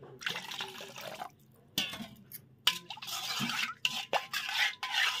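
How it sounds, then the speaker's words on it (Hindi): Hot water poured into a cooking pan of curd and aubergine makes close, splashy liquid bursts separated by short pauses, with no talking. "एड करदेमा गरम पानी टिके"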